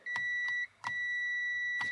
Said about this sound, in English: That beeping lets me know